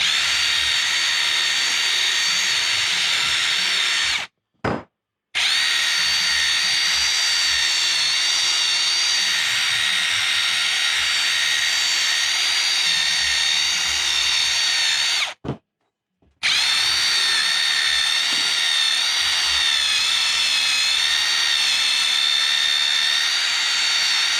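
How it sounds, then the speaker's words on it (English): A power tool spinning a brass wire brush to clean metal parts from a Ford 420 backhoe, running loud and continuous with two brief stops. "I use a brass brush basically, because I don't care if it's perfectly shiny, and it shines right up"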